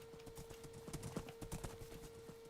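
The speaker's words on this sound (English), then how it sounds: "I got a horse" Horse hooves clip-clopping in Minecraft, a quick run of soft rhythmic hoof taps at moderate level against a steady background tone.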